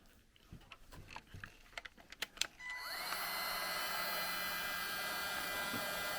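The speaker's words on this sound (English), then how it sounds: "I'm gonna use a micro torch." Light clicks and handling taps give way to a micro torch hissing steadily as it shrinks heat shrink tubing on wiring for Putco lighted emblem and Raptor lights on a Ford Super Duty, holding an even roar to the end.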